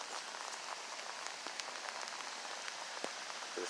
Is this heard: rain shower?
yes